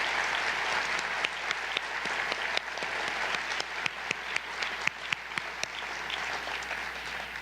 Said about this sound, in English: Can we close with a round of applause for them and their effort?